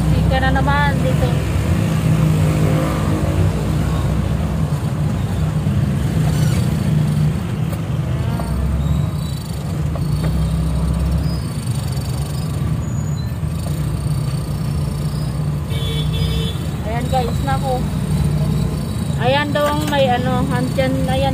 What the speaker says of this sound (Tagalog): Pero tingnan mo naman, napaka-traffic ng kalsada.